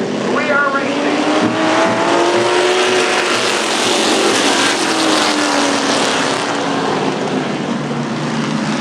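Race cars roar past at Laird Raceway after the green flag, a loud continuous engine drone with rising and falling pitch as cars pass, while an announcer talks over the noise throughout.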